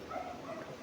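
A dog barking faintly in the distance at a camp, a brief muffled bark under low background noise.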